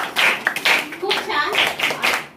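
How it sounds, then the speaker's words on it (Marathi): Children clapping loudly at a school Constitution Day event, a burst of lively applause running the full length, with a voice speaking briefly over it. "टाळ्या वाजवा जोरदार."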